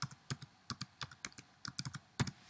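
Rapid, uneven typing on a computer keyboard while a class name is entered in a UML class diagram tool, with close, crisp keystroke clicks coming in short bursts and no talk.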